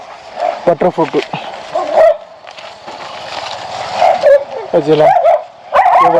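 A dog barking repeatedly in a pear orchard at Kodaikanal, sharp close yips and barks in short bursts with some whimpering, mixed with people talking nearby.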